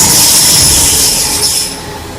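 Patna metro train passing close by, a loud rushing rail roar with high metallic hiss and squeal that fades slightly toward the end.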